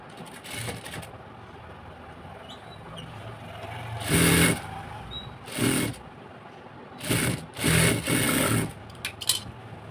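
A sewing machine runs in several short bursts while stitching the edge of palazzo fabric, each run lasting about a second, with quiet pauses between them and faint handling noise throughout.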